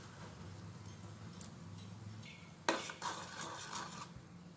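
Maida flour batter for chekodeelu is stirred in a bowl. Quiet scraping is followed by a few sharp clinks of a utensil against the bowl.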